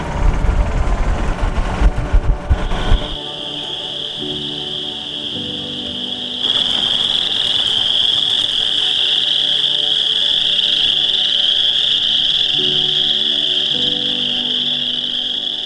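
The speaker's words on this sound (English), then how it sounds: "I just love listening to those frogs," A steady chorus of frogs croaking at night fills the background, with a continuous high-pitched trill layered on top and a low rumble at the start.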